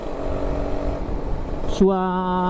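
A two-stroke Kawasaki Ninja RR motorcycle engine drones steadily nearby, then revs up sharply into a buzzing, high whine with strong harmonic tones.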